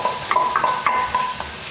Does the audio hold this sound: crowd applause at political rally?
no